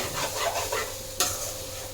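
Dried fish thokku being stirred in a sizzling pan, a steady frying hiss with scraping strokes of the spoon and one sharp click, close and without talk.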